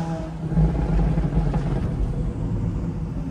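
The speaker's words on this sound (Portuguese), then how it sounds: "é saída de GT3 RS e McLaren 570S" Porsche GT3 RS and McLaren 570S, the Porsche fitted with a straight-pipe exhaust, accelerating away with a deep, loud, rumbling roar that holds steady and close, with no talk over it.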